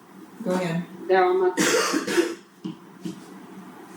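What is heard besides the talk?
someone coughing during an online meeting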